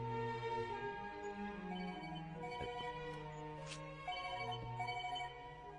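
A phone ringtone plays through a scene, a melodic sequence of sustained electronic tones shifting pitch, faint and under a thin background.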